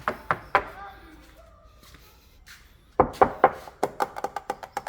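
Knuckles rap on the thin right-side body panel of a 1994 Toyota LN106 pickup, a quick cluster of hollow knocks, a pause, then a longer series of sharp, close taps fading slightly toward the end.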